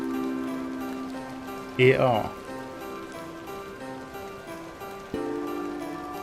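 Soft, steady rain patters continuously in the video game The Excavation of Hob's Barrow, under faint background music, with a short spoken phrase partway through.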